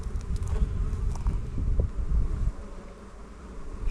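Honeybees fly home to their hives at an apiary. A close, dense buzzing swarm surrounds the listener, with individual bees zipping past near the ear, and no voices.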